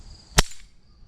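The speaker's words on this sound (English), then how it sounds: "So fire this trap." A steel foothold trap fires, its jaws snapping shut in one sharp metallic clack, close and loud against a quiet background with a brief ringing tail.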